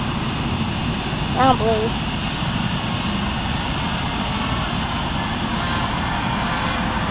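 A Yellow Bee RC model airplane engine at part throttle, a steady distant drone running through the whole stretch, with a person speaking briefly near the start over it.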